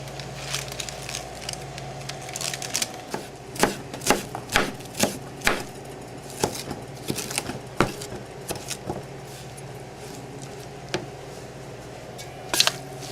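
A knife chops fresh spinach on a cutting board, about half a cup being cut for salmon patties, in close, irregular rhythmic strokes with a few sharper knocks and no talking.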